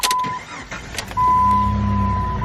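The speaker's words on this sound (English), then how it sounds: "Let's go turn on the car." A Jeep WJ Grand Cherokee engine cranks and catches, then settles into a steady idle hum, preceded by a few clicks and a short electronic tone.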